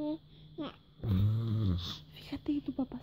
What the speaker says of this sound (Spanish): Fíjate que tu papá está roncando.